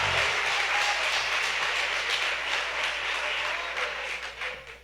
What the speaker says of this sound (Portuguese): Pode dar mais um aplauso para Jesus.